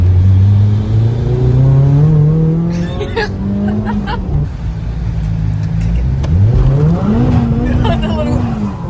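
A freshly tuned Nissan Silvia with a turbocharged SR engine and new injectors revs up and down in loud, rising and falling sweeps, with voices nearby.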